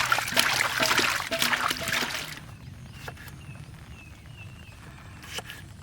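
Tomatoes being swished and rinsed in a vessel of water during outdoor village-style cooking: close, busy splashing and trickling for about two seconds, then a quieter stretch with a few faint drips and small knocks.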